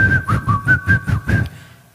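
A person whistles a short tune of six clear, evenly paced notes that rise and fall in pitch before stopping, close and loud with nothing else heard.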